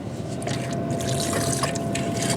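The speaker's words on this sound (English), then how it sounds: "Add a little more water. Regular old tap water, folks." Tap water pouring into a pot of basic protein-packed chili, a steady close splashing fill with trickling and dripping, running continuously on its own without talk.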